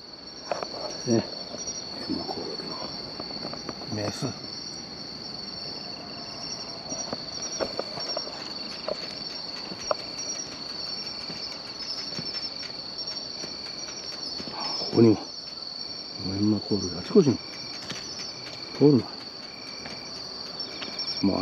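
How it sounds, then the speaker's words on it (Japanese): Crickets and other singing insects trill continuously beside a road, a steady high-pitched chorus throughout, with a few brief footsteps or rustles near the end. "こちにコオロギとか、いろんな鳴く虫がいますからね"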